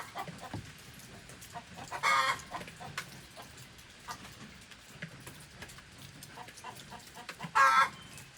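Chicken clucking close by outdoors, two loud bursts of squawking about five seconds apart over quieter scattered clucks and rustling.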